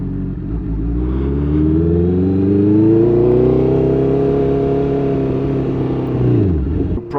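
A Honda CBR 650R motorcycle rides along, its engine tone climbing smoothly in a long rising whine as it accelerates, loud and close, then dropping off near the end, no talking.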